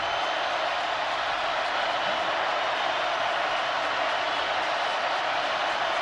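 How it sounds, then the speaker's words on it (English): A huge football stadium crowd of over 100,000 roars steadily on a third down at Tennessee against Missouri, a continuous wash of distant cheering and noise that holds at a constant level throughout. "You can hear this crowd get into it"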